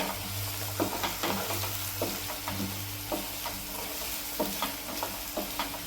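Tomato being stirred into a frying onion base for Maharashtrian sliced egg masala sizzles steadily in the pan, with a low hum underneath and irregular clinks and scrapes of the spoon as it is mixed, close and moderately loud.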